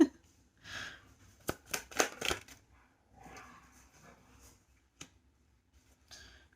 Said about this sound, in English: My dogs are wrestling in the background now